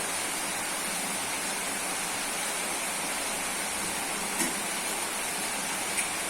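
Water pours into a pan of fried pointed gourd with cooked lentils and potatoes, making a continuous even rushing hiss at moderate volume with no talk.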